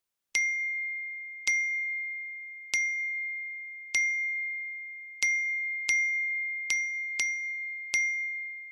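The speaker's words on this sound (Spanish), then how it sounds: "Escuchas las notificaciones de un teléfono al que llegan alertas de un solo periódico." A phone receiving news-app alerts, chiming nine times in a row with clear, high, bell-like dings. Each ding rings out and decays, spaced about a second apart and closer together toward the end, with no talk.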